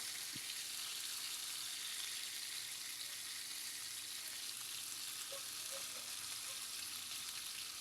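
Thick tilapia fish frying in extra oil in a non-stick pan, a soft, steady hissing sizzle heard from a little distance, fairly faint and even throughout.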